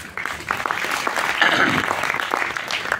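An audience applauds at a business talk, a steady wash of many hands clapping that swells slightly in the middle and holds at moderate loudness for a few seconds.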